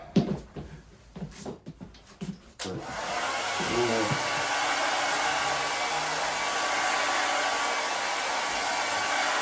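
A few brief knocks and clatter, then a loud air blower starts and roars steadily, drying sealer primer on a goalie mask, a constant close-up rush of air.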